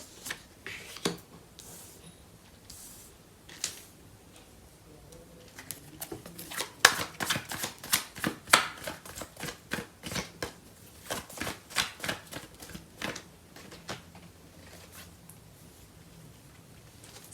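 Tarot cards are shuffled and handled up close, giving bursts of crisp riffling and slapping clicks that grow denser in the middle, then thin out into scattered taps, all fairly quiet with no talking.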